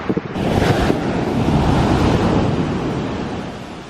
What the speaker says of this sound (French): Il y a beaucoup plus de vagues ici.